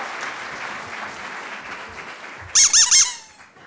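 Audience applause at a smart-city symposium welcoming a speaker, a soft steady clatter of clapping that is then cut through by three loud, close squeaky bursts from a noisemaker.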